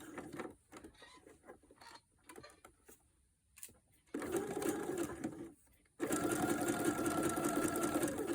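A sewing machine stitches an elastic casing of jersey fabric for a sleep mask, running in short stop-start bursts at first, then settling into long steady runs of rapid mechanical whirring, close and loud.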